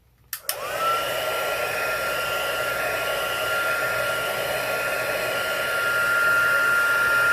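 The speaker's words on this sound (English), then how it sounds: "This is our heat gun. I'm going to turn it on high." Embossing heat gun switched to its high setting, starting with a click and then holding a loud, steady whooshing blower roar with a faint whine, running alone and close throughout.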